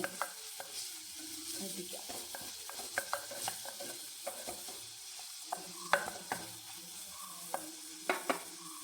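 Garlic frying in ghee in a pan gives a low, constant sizzle, with scattered clicks and scrapes from a stirring spoon. Fairly quiet and close, with no speech.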